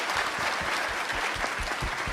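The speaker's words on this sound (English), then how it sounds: "a round of applause" Sustained audience applause at a tech summit session, dense and steady throughout, a full room clapping together at moderate distance with no speech over it.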